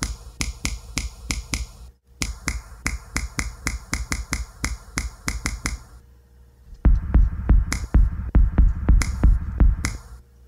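A finger snap sample played through a band reject filter in Ableton Sampler, with the band widened by the resonance control, repeating in quick rhythmic bursts, then shifting to a thicker, bassier snap pattern after a short gap.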